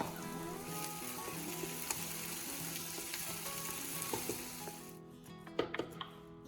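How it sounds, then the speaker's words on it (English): Steady crackling sizzle of onions frying in a hot pan, continuous and close, with a few light scraping clicks near the end. "add the onion and sauté for about 5 to 7 minutes until fragrant and less sharp"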